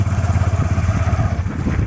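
Motorcycle ridden off-road along a muddy monsoon track, its mid-pitched engine droning steadily and close, with bumps and clatter of the bike over rough ground throughout.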